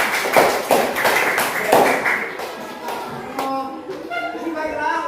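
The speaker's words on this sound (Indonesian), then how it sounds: "Kita beri tepuk tangan kepada kelompok tiga" Classroom applause for a student group, a few seconds of children clapping and tapping close by, thinning out as a teacher's voice takes over.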